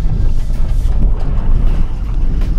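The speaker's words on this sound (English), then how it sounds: "I'm gonna set up for a big splash right here" A 2015 Ford Edge Sport AWD splashes through water off-road, a loud continuous roar of spray and rushing water mixed with wind buffeting.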